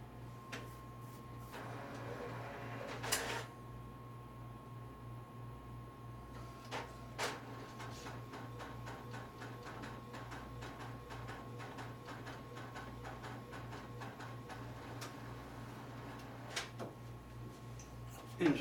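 An Epson B500 card printer prints a double-sided card, giving a steady mechanical hum with rapid rhythmic ticking and clicking throughout and a few louder clunks, close and fairly quiet.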